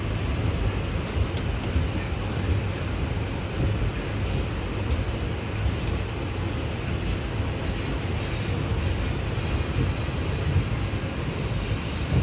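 An Indian Railways express, the Haridwar–Bhavnagar Terminus train, at a station platform, giving a steady dense rumble and roar of rail noise throughout, with a couple of brief high hissing bursts that sound like air brakes.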